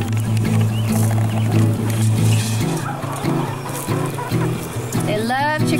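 Chickens clucking in a backyard chicken yard, a busy layered flock of clucks and squawks, loud and close, under a person talking and other background noise.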